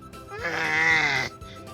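A small child imitates a cow's moo with a single drawn-out, wavering vocal call held for about a second, close and fairly loud, with quiet room sound before and after.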